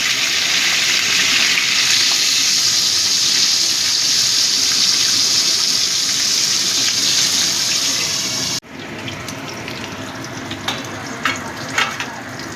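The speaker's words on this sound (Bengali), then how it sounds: "আবারও আমি মাছ দিয়ে দিলাম, এই মাছগুলোও ভেজে নেব।" Steady loud sizzling of koi fish (climbing perch) frying in hot oil, dropping abruptly to quieter crackling with a few sharp spits and pops near the end.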